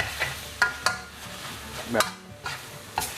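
Wild boar meat dry stir-fried in a pan, with soft sizzling under repeated scraping strokes of a spatula, quiet and close.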